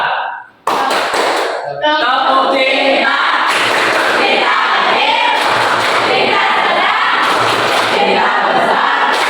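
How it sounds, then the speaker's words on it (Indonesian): A school class performing the "tepuk cinta" clapping chant, many voices chanting together loudly with rhythmic claps and taps after a brief teacher's voice at the start. "Baik, satu lagi, tepuk cinta."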